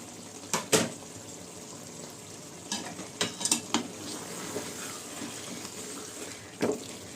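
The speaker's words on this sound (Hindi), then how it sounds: "अब डाल के इसको अच्छी तरह से भून लीजिए।" Chicken and potato pulao masala with lemon juice stirred and frying in a pot, soft sizzling and scraping with a few sharper clinks and spoon knocks, close and moderately quiet throughout.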